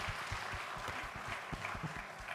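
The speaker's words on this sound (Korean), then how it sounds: "여러분 박수 한번 치겠습니다" A church congregation claps together during a Sunday service, a dense patter of many hands spread evenly, moderately faint and sustained for a couple of seconds without speech.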